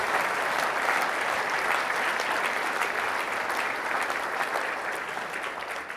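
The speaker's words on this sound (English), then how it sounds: "Let's give him a round of applause," An audience at a veterans' honors ceremony claps in a steady, dense round of applause that holds strong and then eases slightly near the end, with no talking.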